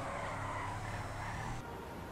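Tires skid as a car drifts in GTA 5, a continuous broadband screech over a steady engine drone that cuts off sharply near the end, with no talking.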